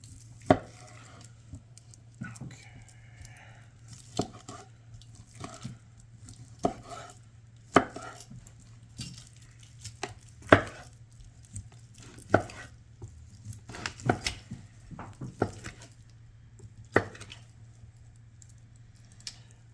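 A knife chopping cooked beef pieces on a board, a series of irregular close, sharp taps and thuds over a quiet low hum.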